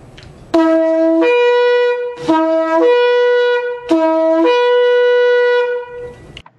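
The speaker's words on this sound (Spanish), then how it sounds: "Ese es el sonido de Shevarim." A shofar sounds the shevarim call, loud and close, as repeated groups of three short, rising two-note blasts separated by brief pauses, with a breathy buzz on each note and no voices.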